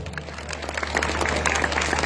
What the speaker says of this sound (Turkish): Büyük bir alkış alalım.